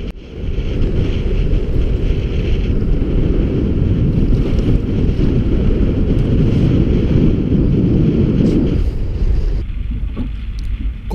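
Strong sea wind buffeting the microphone during kayak fishing, a loud steady roar of gusts and water noise throughout, easing slightly near the end.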